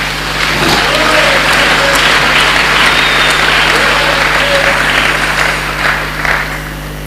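A church congregation applauds in a dense, continuous wash of clapping that holds steady for several seconds, with faint voices mixed in, and then tapers slightly.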